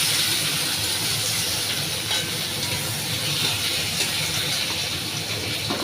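Chopped onion and tomato fry in hot oil for an egg and pointed gourd dish, giving a steady, dense sizzle and hiss that holds without a break, close by, with no talking.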